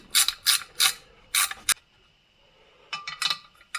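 Two nuts being tightened together on a stud of a VW engine, a series of quick ratcheting clicks in short bursts, a pause, then a few more rapid clicks, close and fairly crisp.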